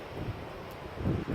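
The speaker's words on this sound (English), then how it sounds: "Luckily, it's so windy again" Strong coastal wind at Botallack Mine in Cornwall buffets the microphone in low, rumbling gusts, strengthening briefly near the end.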